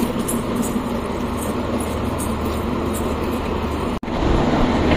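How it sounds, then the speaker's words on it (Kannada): Panchaganga passenger train rolling past, a loud continuous rumble with rhythmic clatter that cuts off abruptly near the end, leaving a slightly different steady roar. "ಪಂಚಗಂಗಾ ಟ್ರೈನ್ ಹೋಗ್ತಾ ಇದೆ ನೋಡಿ."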